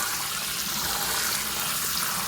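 Water runs steadily over fish tank gravel substrate being rinsed for a 2.3 gallon Seapora aquarium, a continuous even hiss with no pauses and no voices.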